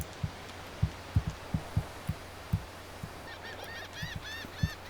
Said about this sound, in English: Man, those birds are annoying.